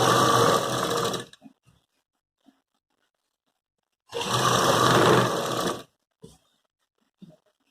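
A sewing machine runs in two bursts of steady stitching on thick suit fabric with a lining, each about two seconds long, with brief clicks and handling noises in the pauses between them.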